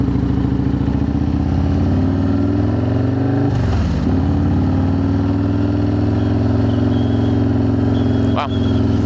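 Perewitz custom Harley-Davidson Softail Slim engine rumbling loudly and continuously, with a brief throttle dip and rise midway and a steady deep idle-like drone throughout.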